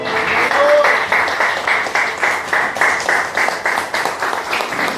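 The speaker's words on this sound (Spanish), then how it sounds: "Denle un fuerte aplauso al Señor." A church congregation claps loudly and in a rhythmic, even beat for about five seconds, filling the hall with steady pulsing applause.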